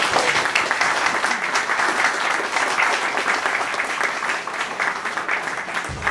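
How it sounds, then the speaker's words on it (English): Audience at a ward election debate giving both candidates a sustained round of applause, steady dense clapping from a room full of people that carries on for several seconds without a lull. "One more round of applause for both of our candidates."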